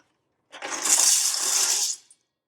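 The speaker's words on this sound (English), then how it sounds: "we're just gonna pour these in and cover it with liquid" Water pours steadily from a container over dry pasta noodles in a pot for homemade gluten-free Hamburger Helper, a bright, splashy rush lasting about a second and a half before stopping abruptly, with no talking.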